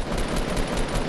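Rapid gunfire in a Fortnite 3v3 match, a short continuous burst of dense, loud shots with no talking.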